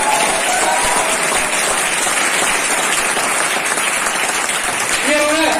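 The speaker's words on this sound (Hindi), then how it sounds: "तो लीडरशिप के लिए जोरदार ताली होना चाहिए" Training-session audience clapping loudly for the company leadership, a dense continuous burst of many hands that stays strong throughout, with voices faintly audible beneath it.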